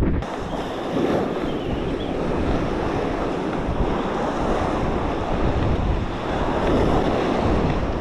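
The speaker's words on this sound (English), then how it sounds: "we're over here on opal beach" Waves breaking and surf washing onto the shore at Opal Beach with steady wind buffeting the microphone, a continuous broadband roar that swells and eases throughout, no voices.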